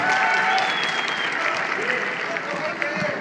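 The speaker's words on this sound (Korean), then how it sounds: "여기서 박수 드리겠습니다." An arena audience applauds during a pause in a combat match involving a fitness champion, after a possible injury. The clapping is loud and sustained, with commentators' voices running over it.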